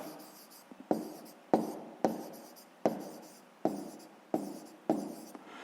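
Hand writing on paper with a pen during a sixth-grade math exercise, heard as repeated scratchy strokes in short bursts separated by brief pauses, close and fairly quiet, with no talking.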